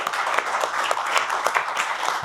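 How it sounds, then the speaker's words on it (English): A short burst of audience applause for the guests at a motorsport podcast recording, with brisk, fairly close clapping running evenly throughout. "round of applause, I think, for the guys here."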